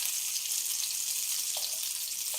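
Masala food frying in a pan with a steady, even sizzle and no speech, plus a couple of faint scraping stirs near the end.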